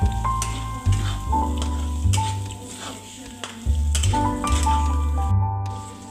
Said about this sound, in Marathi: आपण आता ही कोळंबी ह्याच्यामध्ये घालून चांगलं मिक्स करून घेऊया